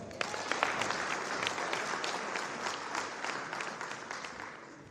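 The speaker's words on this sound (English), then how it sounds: "I want you all again to have a round of applause for yourself." A crowd applauds steadily, many hands clapping in a dense, even patter that continues throughout.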